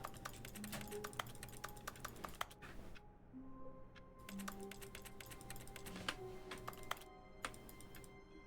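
Rapid keyboard typing from The Stanley Parable Ultra Deluxe, a steady clatter of crisp key clicks with brief pauses, faint and close, alone without speech over a low electronic tone.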